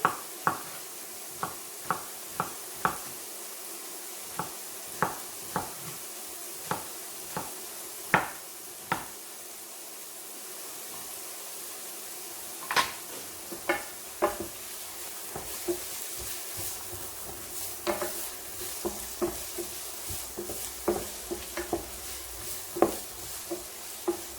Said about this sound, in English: The onion, carrot and celery are sizzling nicely.